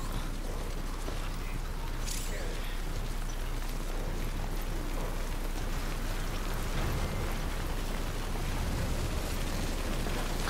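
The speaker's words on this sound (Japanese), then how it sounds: "お、雨降ってきた。" Steady rain falls in the video game Death Stranding, a constant wash of drops and hiss over a windy setting, with one brief brighter crackle near the start.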